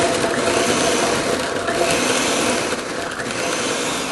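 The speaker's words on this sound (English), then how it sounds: "We're going to grind this first because this is going to be tougher because of the skin." A kitchen blender grinds cranberries for a holiday cranberry sauce, giving a steady, loud, dense whir that runs continuously with only slight dips in strength and no talking.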